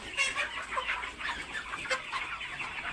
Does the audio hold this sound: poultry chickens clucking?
yes